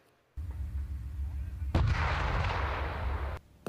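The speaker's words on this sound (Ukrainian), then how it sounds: "Постріли з різних позицій, з місця та на ходу." A German Leopard tank fires its main cannon during crew training, a single heavy boom with a long rumbling roar that fades slowly, heard from a distance.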